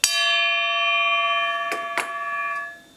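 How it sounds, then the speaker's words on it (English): A stamped saw blade struck with a piece of metal rings out like a bell, one sharp hit followed by a long, clear sustained tone that slowly fades, with a couple of faint taps partway through. "if you hit it with a piece of metal, is it rings like a bell"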